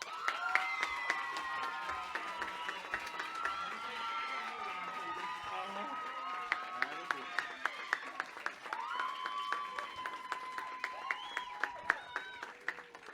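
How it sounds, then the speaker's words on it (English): A talent show semi-final audience claps and cheers steadily for the full stretch, crisp individual claps standing out over a bed of crowd noise, with some voices and whistle-like tones mixed in. "Ladies and gentlemen, big round of applause,"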